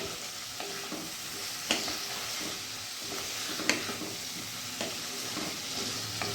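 Potato and aubergine with spices sizzle as they are stir-fried in a pan over a medium gas flame, a soft steady frying hiss punctuated by a few light stirring knocks.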